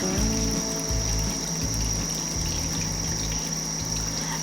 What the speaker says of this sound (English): I'm going to fill the Dutch oven up with water